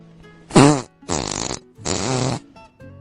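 A cartoon fart sound in a children's bedtime story plays as three loud buzzing blasts, the first with a rising wobble, then a softer short tail, separated by brief silences.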